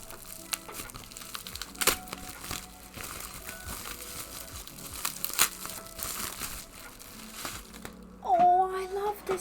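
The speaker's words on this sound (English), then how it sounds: "it's the ASMR of unwrapping" Paper and plastic wrapping crinkle and tear in bursts while a package is unwrapped, close and fairly quiet, with people talking softly over the rustling.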